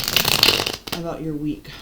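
A tarot card deck is shuffled briskly for about a second, a dense papery riffle up close, before a voice begins speaking over the last part.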